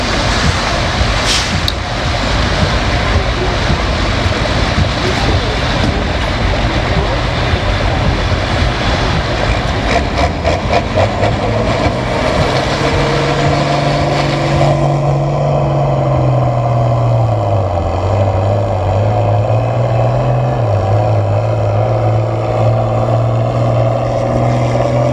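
Tractor in the 9700 class at a tractor pull roars loudly and continuously, the engine note climbing and shifting pitch midway through the run before bogging down, with no talk over it.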